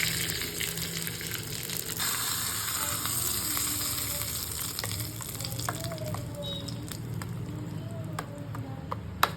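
Hot oil sizzles and crackles steadily in a pan as tomato chutney is tempered, a continuous bright frying hiss with scattered pops and faint clinks of a utensil.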